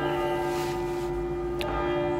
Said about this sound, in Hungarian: harangoznak.